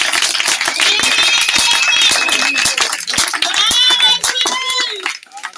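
Church congregation applauding and cheering in worship, a dense wash of rapid clapping with excited voices and high shouts layered over it, loud and close throughout before easing off at the very end.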